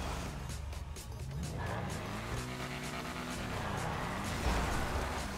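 A car in a racing video game struggles to climb a flimsy sheet-metal ramp, its engine droning steadily with a rising and falling whine throughout, close and continuous.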